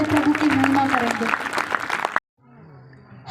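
A church congregation claps loudly and steadily for about two seconds, with voices mixed in, then the applause cuts off abruptly into a quieter background.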